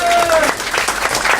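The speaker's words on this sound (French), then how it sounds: "on applaudit très fort, s'il vous plaît" Audience at a taped comedy show applauding for a mock wedding, dense clapping that swells over a voice trailing off at the start, then continues fairly loud and even.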